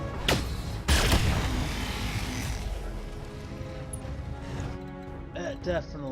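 Weapon fire in the mech game Roguetech as a shot is aimed at an enemy mech: two heavy booming blasts up front followed by a long rumbling, crackling roar, loud and close, with a voice talking briefly near the end.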